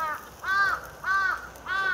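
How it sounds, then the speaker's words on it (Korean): A crow caws three times in an even rhythm, each call loud and fairly close, with a quiet outdoor background between the calls. "야, 시끄러 까마귀 이렇게 해."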